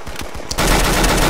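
Rapid automatic gunfire in the game CS:GO: a few quick shots, then a dense, loud, continuous burst of fire that fills the rest of the moment.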